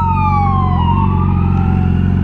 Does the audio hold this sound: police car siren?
yes